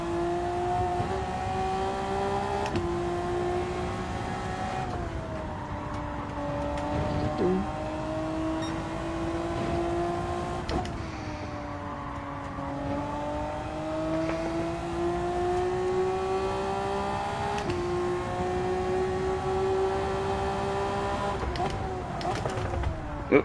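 A Toyota Supra engine drones steadily in Gran Turismo 7, its pitch rising and falling through gear changes and throttle lifts over a long stretch of racing, with occasional talk underneath.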